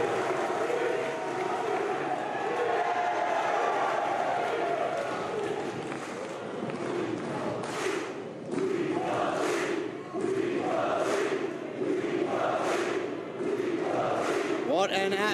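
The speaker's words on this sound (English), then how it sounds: "This crowd loves it." Sold-out wrestling arena crowd at the NYC Arena roaring and cheering, a loud continuous din that swells into rhythmic chanting bursts toward the end, with a commentator's voice faintly mixed in.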